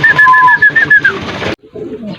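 Close, loud cooing of a black racing pigeon, a throaty warbling call that runs for over a second, breaks off, then resumes more softly.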